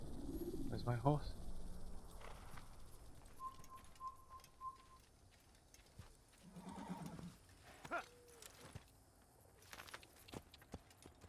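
A horse whinnies near the start amid Assassin's Creed game sounds, followed by cooing birds, hoofbeats and scattered beeps and effects.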